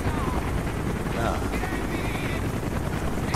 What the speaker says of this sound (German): Alter, wie viele Hubschrauber hier sind.